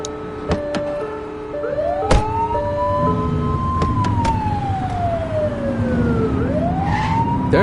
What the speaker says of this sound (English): Turn that siren off. We don't need it on right now.